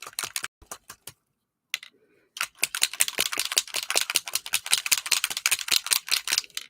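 Rapid keystrokes clatter on a computer keyboard, a short burst followed by a brief pause and then a long, fast run of close, crisp clicks with no talking.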